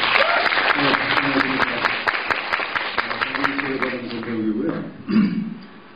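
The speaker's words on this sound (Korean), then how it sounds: "여러분 큰 박수 한번 부탁드립니다." Warm applause from an audience at an event, loud sharp claps over the room, then a voice speaks as it fades.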